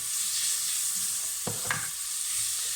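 Mushrooms fry in a pan with a steady, even sizzle, and two quick clicks of a utensil sound in the middle.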